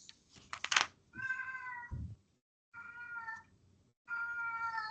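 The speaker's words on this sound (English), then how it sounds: "Sounds like that cat has some questions." A cat meows repeatedly, drawn-out plaintive calls with pauses between them, after some brief clicking and tapping noises.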